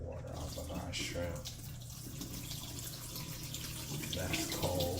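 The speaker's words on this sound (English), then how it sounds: "I'm draining the water off of our shrimp." Water draining and splashing off shrimp into a kitchen sink, a steady running pour with a voice talking over parts of it.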